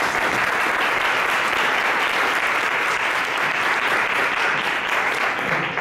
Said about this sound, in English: can we give a warm round of applause for Andrew Coy?